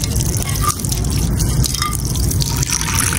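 Water pours and drips into a bowl for pigeons, a continuous close trickle with small splashy drips over a steady background hum.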